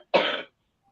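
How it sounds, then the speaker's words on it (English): A woman gives a single short, loud cough, one sharp burst that stops abruptly and leaves near silence. "That sounded like a lovely cough."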